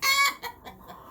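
Laying hens on a farm cluck loudly and close by in a quick burst, followed by a few softer clucks alone.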